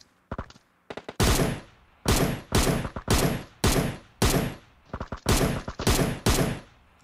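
Video game gunfire comes in repeated bursts of loud, sharp automatic shots separated by short pauses, with a few single cracks at the start and no talking over it.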